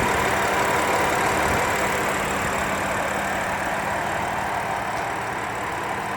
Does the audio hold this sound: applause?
no